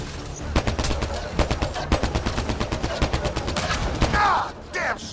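Rapid bursts of automatic gunfire in a Mass Effect: Andromeda firefight, dense repeated shots up close with brief spoken shouts mixed in near the end.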